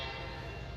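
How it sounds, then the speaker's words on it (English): A Norfolk Southern freight train led by vintage diesel locomotives, including a B32-8, passing in Alta Vista, Virginia, heard as a brief, steady, loud engine drone and rumble. "we see a freight train pass with NS B32-8 number 3530 and NS 3378."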